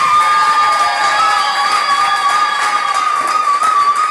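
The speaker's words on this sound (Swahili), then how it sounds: "Hebu mpigie kwanza Yesu makofi." A church congregation applauds and cheers in a loud, sustained burst of clapping and shouting that fills the hall, with no speech over it.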